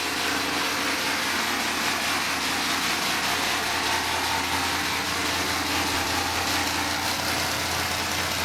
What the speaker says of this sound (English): listen to that one. It's over there. That's an old RX-7.